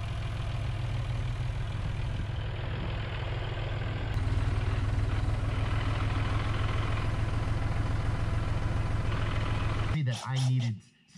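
A tractor engine idles steadily at a worksite near a creek bridge being decked with boards, a low continuous rumble running throughout before a brief clatter and drop near the end.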